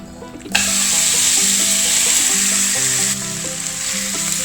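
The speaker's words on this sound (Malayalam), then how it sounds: "പാത്രം ചൂടായി വരുമ്പോൾ 1 ടേബിൾ സ്പൂൺ വെളിച്ചെണ്ണ ഒഴിച്ച് കൊടുക്കുക. അതിനുശേഷം നമ്മൾ മാരിനേറ്റ് ചെയ്ത് വെച്ച ചിക്കൻ" Marinated chicken dropped into hot coconut oil in a pan, setting off a loud, close, continuous sizzle that holds steady and eases slightly toward the end.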